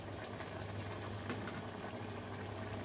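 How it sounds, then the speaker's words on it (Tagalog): Soft bubbling of chicken adobo broth simmering in a pot, a steady continuous burble with faint pops, close by and without talk. "kumukulo na po yung ating sabaw"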